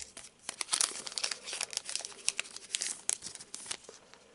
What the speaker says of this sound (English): I'm just going to open it with the scissors.